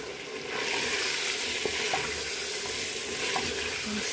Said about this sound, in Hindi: मसाला अच्छी तरह से भून जाए और तेल निकल आए।